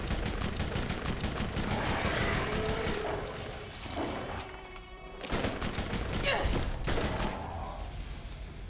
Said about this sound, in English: I just noticed that when I was shooting a lot of shock weapon